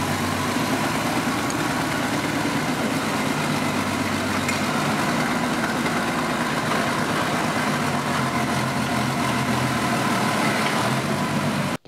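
The engine of a 1942 Harley-Davidson WLA motorcycle runs steadily at idle for about twelve seconds, a continuous close rumble with even vibration and no speech, cutting off abruptly at the end.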